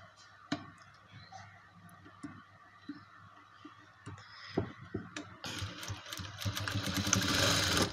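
A sewing machine stitches the side pocket of a pair of trousers in short bursts, each with a few clicks and handling noises, then runs steadily and grows louder in a longer final stretch.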